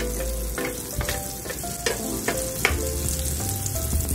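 Corned beef and eggplant frying in a pan, a loud, steady close sizzle with light stirring and clinking of a utensil.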